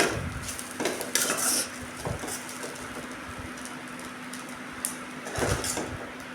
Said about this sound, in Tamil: போட்டு நல்லா அதையும் கிளறி விடலாம் எல்லா பக்கமும் படுற மாதிரி நல்லா கிளறி விட்டுக்கலாம்